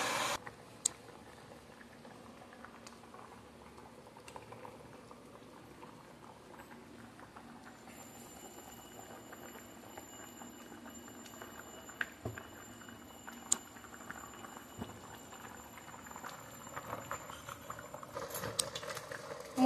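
Chicken keema ghugni with potatoes and peas simmers in water in a pot, giving a steady, soft bubbling and pattering that runs continuously at close range.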